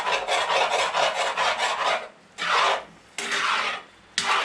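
A spoon scrapes the bottom of a pot of smothered potatoes in a run of quick rasping strokes, followed by three longer, separate scrapes, loud and close, with no talking.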